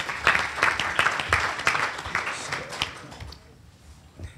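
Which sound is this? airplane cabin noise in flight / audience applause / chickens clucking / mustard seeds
audience applause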